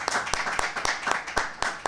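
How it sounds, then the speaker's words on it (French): An audience at a colloquium applauds to welcome the first speaker, giving sparse, steady, rhythmic hand clapping from a modest crowd in a hall. "On acclame pour lui donner du courage."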